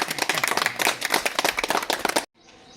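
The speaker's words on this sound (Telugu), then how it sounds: "క్లాప్స్ గట్టిగా కొట్టండి" Audience clapping in a close, dense burst at a Lions Club free mega medical camp held at a primary school, loud and steady for about two seconds before cutting off abruptly into quiet.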